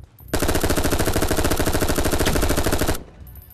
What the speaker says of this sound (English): MP5K is probably the best gun.